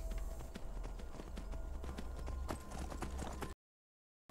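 Horse hooves clip-clop in a steady rapid rhythm in the video game Skyrim, loud and close over a low rumbling backdrop, then cut off abruptly into silence near the end.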